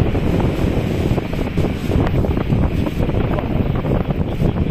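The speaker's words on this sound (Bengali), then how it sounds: "প্রচন্ড বাতাস" Strong, constant cyclone wind buffets the microphone in a dense, roaring rush with no pauses, loud and close across open farmland where a tractor is ploughing.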